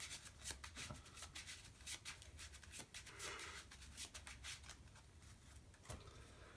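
Trading cards being shuffled face down on a table for a Yu-Gi-Oh character deck duel, a rapid series of soft papery riffles and rubbing swishes, close and steady, with no talking.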